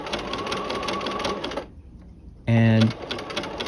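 A sewing machine fitted with an open-toe embroidery foot sews a narrow rolled hem, giving a close, rapid mechanical chatter that pauses briefly and then resumes with a loud motor hum.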